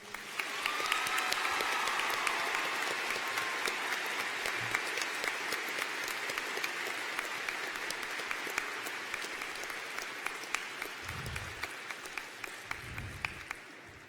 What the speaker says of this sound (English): Please join me in a round of applause for our 2018 graduates that were taken before their time.